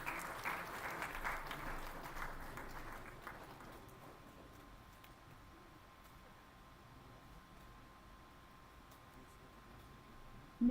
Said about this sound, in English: Can we have a loud round of applause for her?